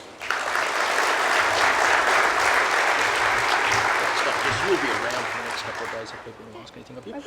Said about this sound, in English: Have another round of applause for Jess